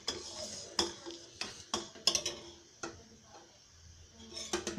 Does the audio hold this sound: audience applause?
no